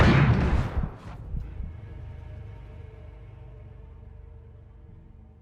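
A loud, close burst of gunfire opens a scene in the video game The Order: 1886, then fades into a long, low, reverberant rumble.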